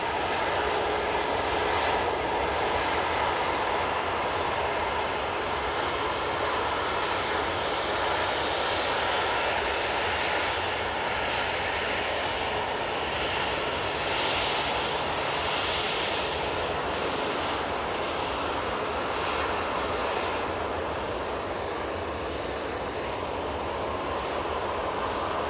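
A passenger airplane's engines roar steadily at Manchester Airport, a loud, sustained broadband rumble and whine that stays constant throughout with no talking.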